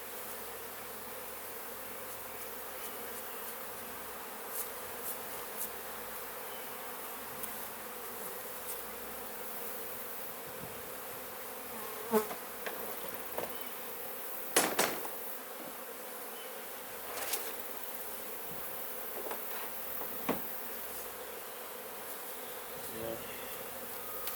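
Honeybees buzzing softly at a distance during a honey harvest, a low steady hum with a few louder passes close by and a brief spoken word.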